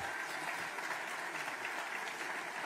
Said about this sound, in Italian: vi chiedo un grande applauso per il Ministro Calderoli